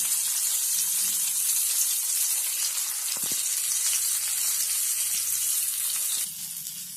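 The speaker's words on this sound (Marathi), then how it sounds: "तर दुसऱ्या साईडने आपण याला फ्राय करून घेऊया।" Surmai (seer fish) frying in a pan, giving a steady hissing sizzle of oil throughout at moderate level, with a brief clatter midway and a quieter tail at the end.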